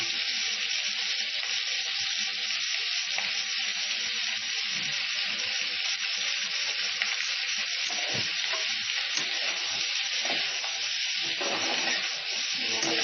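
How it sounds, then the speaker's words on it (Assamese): Pigeon meat with added salt is stirred in a hot pan, giving a steady, dense sizzle that runs the whole time with faint scraping of the stirring underneath. "লৰাই দিব যাতে মিহলি হৈ যায়।"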